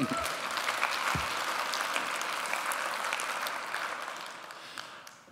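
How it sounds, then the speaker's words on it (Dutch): A lecture audience at a Dutch city-day event breaks into loud, sustained applause for a writer, a dense wash of many hands that holds steady and fades slightly near the end. "Dames en heren, mag ik een groot applaus, Ilja Leonard Pfeiffer."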